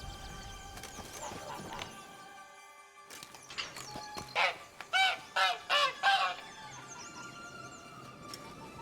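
A goose in The Witcher 3: Blood and Wine lets out a quick series of five or six loud, close honks mid-clip, set against quieter game ambience with faint hoof clip-clop.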